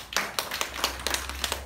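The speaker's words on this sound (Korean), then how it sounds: "가장님들 우리 박수 한번 치죠" A church congregation claps in a slow, fairly regular rhythm, about a dozen distinct hand claps over under two seconds, moderately distant and without talk.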